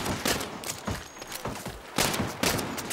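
Rapid bursts of gunfire in a shooter video game, loud and close, with several quick volleys crackling back to back in a dense, continuous barrage.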